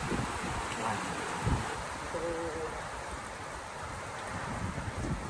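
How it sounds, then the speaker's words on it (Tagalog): Strong, steady wind roars across a lakeside campsite at Lumot Lake in Cavinti, Laguna, a broad continuous rush with gusty buffeting against the microphone and no pauses. "Malakas na naman yung hangin"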